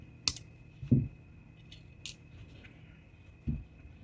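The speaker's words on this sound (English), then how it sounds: "We're going to snip the end." Jewelry wire is snipped with cutters in a few sharp, quiet clicks spaced across a few seconds, close by, with no talking and a faint steady hum underneath.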